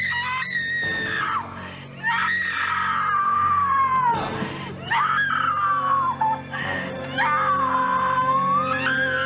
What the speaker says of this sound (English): There's that screaming.